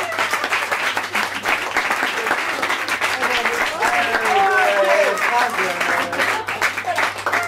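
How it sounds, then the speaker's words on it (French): Audience applause for improv theatre actors at a bar show, a dense, steady wash of clapping lasting throughout, with voices and cheers mixed in. "les applaudit bien fort"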